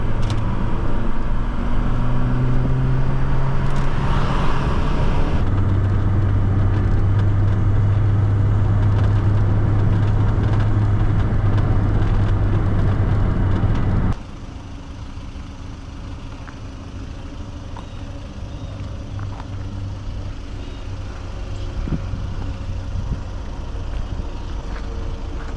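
A 1993 Volvo 240 hums steadily while driving, a constant low engine drone with road noise. Partway through it drops abruptly to a quieter, smoother cabin rumble.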